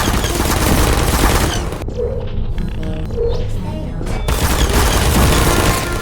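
Turrets in the video game Portal spray rapid continuous gunfire, dense and loud, broken by a brief lull of lighter clicks and pings before the sustained firing resumes.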